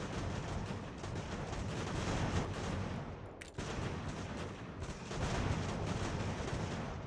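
Dense, continuous cannon and musket fire rumbles in the video game Ultimate General: American Revolution, a steady barrage of overlapping booms heard from a distance with no clear gaps.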